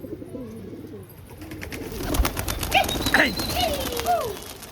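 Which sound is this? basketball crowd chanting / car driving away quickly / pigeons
pigeons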